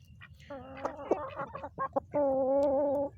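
Hens and a rooster on a farm cluck and call in a string of short, harmonic squawks, then one sustained loud crow-like cry near the end, close and clear with faint background noise.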